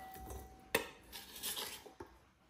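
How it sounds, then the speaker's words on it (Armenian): Chopped chicken breast tipped into a salad bowl, heard as a sharp clatter followed by softer scraping and light clinks of a utensil against the dish, fairly quiet with no talking. "Այստեղ կտրատված հավի կրծքամիսը ավելացնում եմ աղցանամանի մեջ։"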